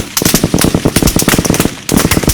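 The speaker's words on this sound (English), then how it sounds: "Nima give me a lot of gunshots! Pow, pow, pow, pow, pow. More gunshots!" A rapid burst of sharp gunshot pops fires in uneven volleys, loud and close, with a brief pause before another flurry.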